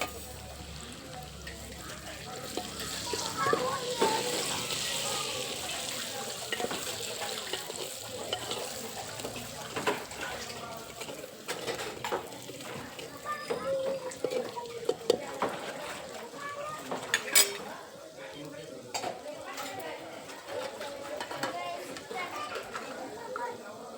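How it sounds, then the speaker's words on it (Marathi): Ground spice paste frying in a pan for a stuffed brinjal curry with sprouted moth beans gives a steady, soft sizzle throughout, with someone talking over it and occasional utensil clinks. "हे वाटण छान तळून घ्यायचं"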